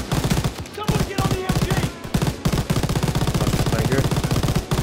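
Rapid machine gun fire rattles in sustained bursts during a World War II shooter game, Call of Duty WWII, loud and dense with brief gaps, layered with game effects and faint voices.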